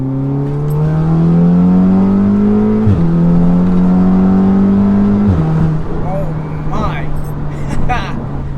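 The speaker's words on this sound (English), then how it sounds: "I'm going to do a little third gear roll on here" A turbocharged Audi S3 running E85 pulls hard in third gear from inside the cabin, the loud engine drone rising steadily through two climbs with a gear-like dip between them, then easing off as a voice speaks faintly near the end.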